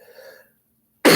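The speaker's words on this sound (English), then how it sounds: "pardon my cough, I've been sick." A single sharp, loud cough bursts out at the end from a person who has been sick, following soft talk and a stretch of silence.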